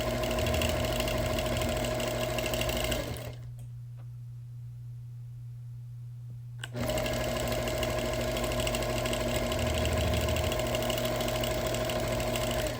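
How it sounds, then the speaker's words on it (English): A sewing machine quilting a wool quilt runs with a steady mechanical whir, stops for about three seconds of near silence, then starts up again at the same close, even pace. "I'm adding some background quilting where possible"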